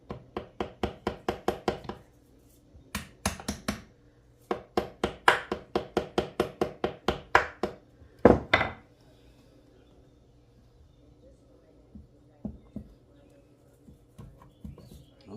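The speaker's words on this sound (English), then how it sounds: "what they suggest is tapping it lightly with a hammer" A hammer makes a rapid series of sharp, light taps on a stuck hard plastic part of a Chrysler A-518 transmission in quick bursts, pausing, then a few scattered taps with quiet talk.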